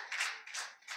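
A church congregation claps its hands together in a few quick soft rounds, with no talk over the clapping.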